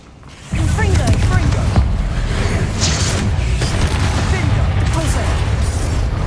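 The Confringo fire-blast spell in the Hogwarts Legacy video game erupts after a quiet moment into loud, sustained explosive crackling and booming combat noise that stays thick and steady to the end.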